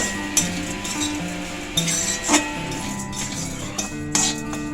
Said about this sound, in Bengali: এরপর আমি একটু নেড়ে নিচ্ছি যাতে এর মধ্যে চিনিটা অল্প একটু গলে যায়